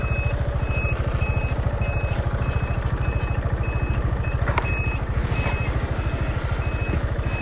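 A Piaggio MP3 500 HPE Sport Advanced scooter sounds its reversing beeper, a steady train of evenly spaced electronic beeps over a low idling engine throb, close and continuous.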